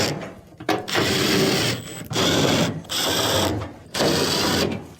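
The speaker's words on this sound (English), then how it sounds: "Next, go around and reinstall all of your 1/4" screws." A power driver runs quarter-inch screws back into a dryer cabinet in four separate whirring bursts of about a second each, loud and close, with short pauses between them.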